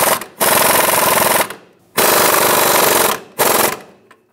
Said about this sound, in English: And we'll tighten the nut.